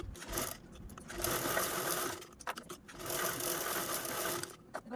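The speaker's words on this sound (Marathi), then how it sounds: "अगोदर मी इथे लॉकची टीप मारून घेते" A sewing machine runs in quick bursts as it stitches a lock stitch on a potli bag, close up. A rapid mechanical whir pauses briefly between runs.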